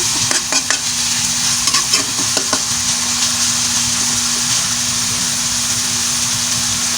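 Meat browning in a hot pan for pancit bato guisado, with a loud continuous sizzle and a cluster of sharp utensil scrapes and clicks early on, then steady frying alone.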